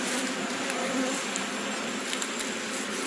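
Honeybees at a hive in Jamaica as a queen excluder is fitted, giving a steady, moderately loud buzzing drone with no other sounds.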